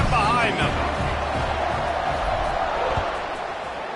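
A stadium crowd roaring at kickoff in a college football video game, a broad steady wash of noise under commentary.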